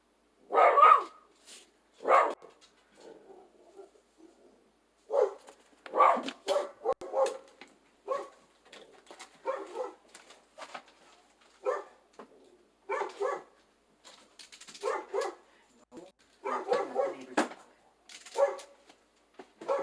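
A neighbor's dog barks repeatedly in short, separated bursts over about twenty seconds, moderately near and loud against a quiet background, with no talk over it.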